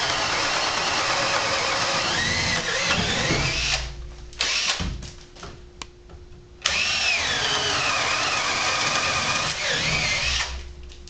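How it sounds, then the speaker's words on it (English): A power drill whines loudly, drilling holes through wooden studs in long bursts that stop and restart, with its motor pitch rising and falling as it bites. "I'm drilling approximately in the center of the stud."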